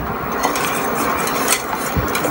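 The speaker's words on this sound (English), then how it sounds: "So I'm going to give all this a whisk together" A whisk clinks and scrapes against a pot while barbecue sauce with Worcestershire sauce and butter is stirred together, giving a quick, close, irregular rattle of metal taps with no talking.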